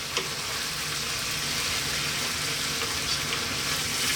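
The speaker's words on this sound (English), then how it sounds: "now we're going to add some coconut milk there" Coconut milk going into a simmering lamb curry with broken-down tomatoes, giving a steady, close hiss and bubbling sizzle that holds evenly throughout with no voices.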